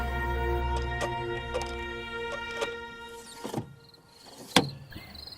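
Windows of a room are pushed open by hand, with several sharp knocks and a scraping slide over a steady background hum, followed by a louder clunk near the end.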